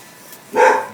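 A single loud, close bark from Scarlett, a dog guarding the house against a mail truck, breaks a short quiet stretch.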